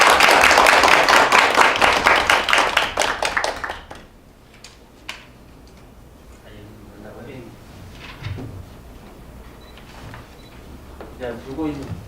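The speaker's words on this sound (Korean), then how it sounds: "큰 박수 부탁드립니다." An audience at a lecture at the Gwangju Chamber of Commerce claps loudly and steadily for about four seconds as the speaker is introduced, then the clapping stops abruptly, leaving a quiet room with scattered speech.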